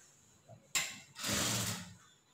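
A sewing machine runs a short stitching burst along the seam of a nightie, close and moderately loud, a brief whirring run after a sharp mechanical clack, with no talk.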